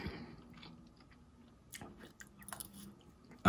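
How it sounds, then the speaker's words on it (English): Close-up chewing and crunching while eating rice with half-green, half-purple cabbage, quiet mouth noises in a soft, irregular rhythm with a louder bite burst at the end. "I should not be eating this damn rice"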